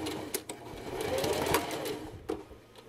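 Home sewing machine backstitching a seam on pajama pants, a close, steady whirring run with brief pauses and a couple of clicks, nearly free of talk.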